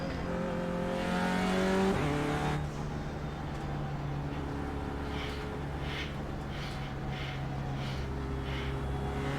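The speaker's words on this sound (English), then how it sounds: "Don't know how much I should be warming up my tyres." A race car in the iRacing simulator weaves to warm its tyres: a loud engine revs high, drops sharply, then holds a steady droning note with light tyre scrubbing, close and with no talking.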